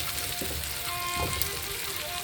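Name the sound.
tomatoes and onions cooking in a pan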